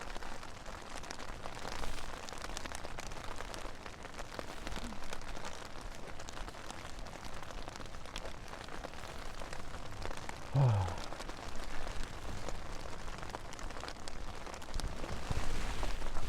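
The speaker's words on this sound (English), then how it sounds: "Oh my god, that rain." Rain falls on a Night Cat tunnel tent at a Peak District campsite at night, a steady soft pattering and hiss that continues evenly throughout with no talking.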